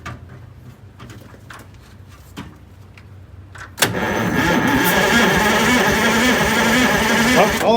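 A Detroit Diesel 6-71 engine on a vintage GM bus cranks and catches with a sharp burst, then settles into a loud, steady, rough diesel run after some quieter clunks and shuffling.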